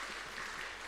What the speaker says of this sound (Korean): 우리 다시 한번 격려의 박수 해주시고 또 하나님께 영광의 박수